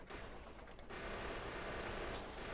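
Tank guns fire at stragglers in Factorio, a dense and continuous crackle of rapid shots that grows steadier and thicker after the first second and carries on at moderate loudness.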